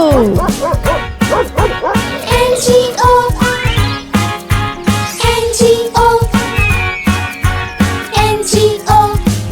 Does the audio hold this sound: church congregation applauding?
no